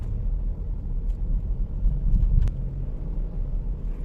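A Jeep Grand Cherokee with a Pentastar engine, once troubled by a misfire, on a highway road test: steady low engine and road rumble from inside the cabin, with a faint brief click partway through and no talking.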